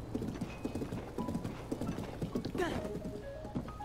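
Rhythmic clip-clop of a horse's hooves galloping in Zelda: Breath of the Wild, with occasional whinnies, steady and close under faint background speech.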